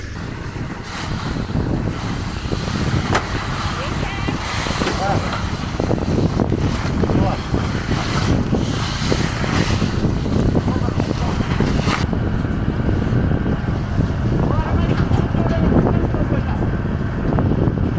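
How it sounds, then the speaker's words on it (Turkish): Strong wind roars steadily outdoors on farmland, buffeting the microphone with loud low rumble throughout, with no pause. "Sadece rüzgar esiyor"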